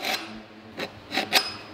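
A STIHL file sharpening pruning shears, giving a few short, dry rasping strokes at close range, spaced irregularly with brief pauses between them.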